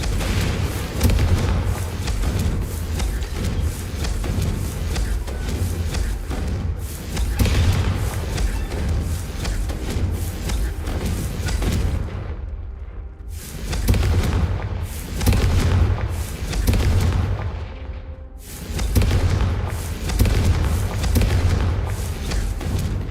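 Confringo blast spells in Hogwarts Legacy, a series of loud, deep booming explosions in rapid succession with short gaps, heavy low rumble behind each hit.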